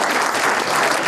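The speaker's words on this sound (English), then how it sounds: "Ruthie's applause" Steady, full applause from wedding guests as the bride enters, a dense continuous patter of many hands close and loud throughout.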